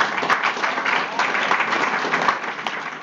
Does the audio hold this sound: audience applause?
yes